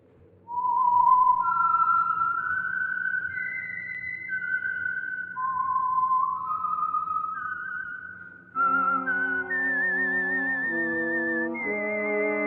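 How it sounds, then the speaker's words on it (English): Whistled signature tune of the Signal Oil radio program The Whistler, a clear eerie melodic whistle rising and falling alone, then joined by sustained orchestral chords under further whistling. "the signal to listen for is this whistle that identifies the Signal Oil program"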